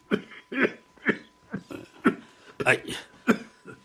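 A person coughs about eight times in a rough, rhythmic series of short hacking bursts, close up.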